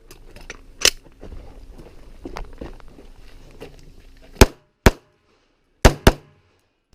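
Pistol shots at an IDPA match stage, a few sharp, loud cracks coming singly and in quick pairs after quieter shuffling and handling noises.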